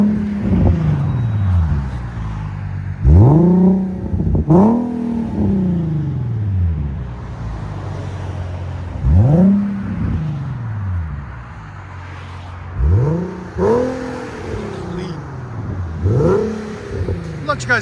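A 2015 Infiniti Q50 with a 3.7L V6 and Borla and Flowmaster mufflers revs repeatedly. Each sharp throttle blip climbs and then drops back to a deep, rumbling idle, heard loud and close.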